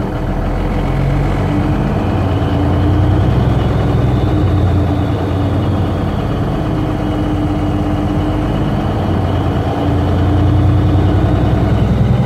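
A parked International S2500 truck's engine runs at a steady low rumble around idle, loud and close, holding an even drone throughout with no clear rise in pitch.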